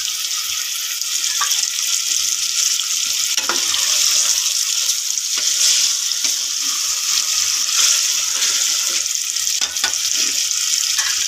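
Eggs and potatoes frying in a masala in a pan, giving a loud, constant sizzle with occasional stirring clatter. The sound is close and steady, with no talking over it.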